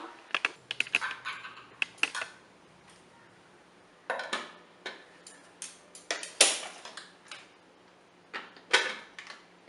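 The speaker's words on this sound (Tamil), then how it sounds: "இப்போ சின்ன சின்ன பீஸாக நம்ம கட் பண்ணி இதில் போட்டுக்கலாம்." A knife chops a peeled carrot into small pieces on a board, with sharp close taps in irregular bursts separated by short pauses.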